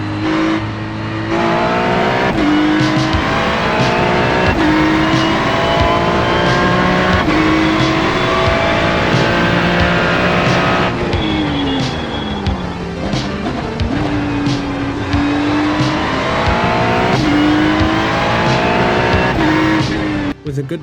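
Ferrari GT3 car launching at a race start at Okayama International Circuit in iRacing, its engine revving hard through rapid gear changes over continuous loud running noise, with other cars around and some tire squeal.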